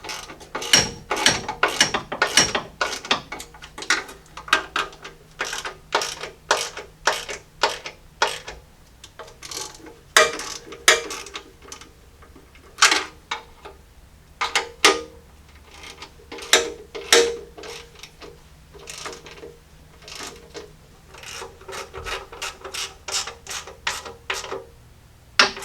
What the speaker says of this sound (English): after finishing up torquing down those bolts